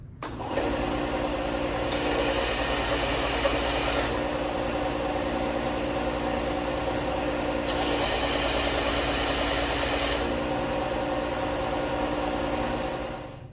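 A table sander smooths splinters out of drilled wooden construction blocks: a steady motor hum runs throughout, with two louder, rougher grinding passes of a few seconds each as pieces are pressed against it.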